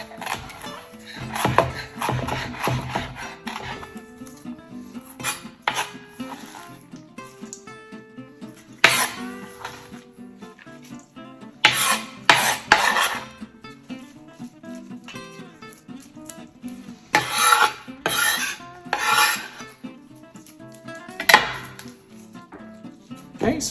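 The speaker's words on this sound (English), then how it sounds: "go ahead and just use your knife to chop them into slices" A kitchen knife slices cabbage into strips for coleslaw: irregular clusters of sharp, close knocks on a cutting board, some in quick bursts and others spaced apart, over a steady background.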